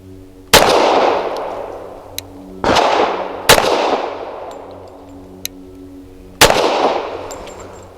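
Four loud, close gunshots from a Tisas Night Stalker 1911 pistol firing 230 grain Golden Saber hollow points, spaced irregularly with sharp cracks and echoing decay, plus faint clinks of falling brass between shots.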